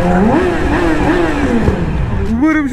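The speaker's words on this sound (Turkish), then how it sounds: "360'dan görülmüştür şu egzoz patlamaları ya. Mükemmel patlatıyor." A BMW car revving with popping exhaust on a highway, its engine note rising and falling loudly and close throughout, with a sharper rev at the end; wind and other traffic noise sit underneath.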